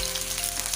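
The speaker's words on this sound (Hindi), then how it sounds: "अब हम इसमें सबसे पहले डालेंगे अदरक का पेस्ट। इसको अच्छे से ब्राउन होने देंगे।" Ginger paste sizzles and fries in hot oil for a saag tadka, a steady dense crackle close up with no voices.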